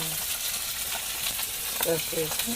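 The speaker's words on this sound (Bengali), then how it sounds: "তা মাছ ভাজি করছো?" Pangas fish frying in a pan gives a steady, close sizzle throughout, with a few brief voiced sounds near the end riding over the hiss.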